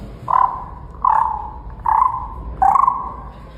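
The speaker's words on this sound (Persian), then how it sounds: "دیگه صدای قورباغه است" Four low, drawn-out croaks repeat at a steady pace, close and clear over a quiet background.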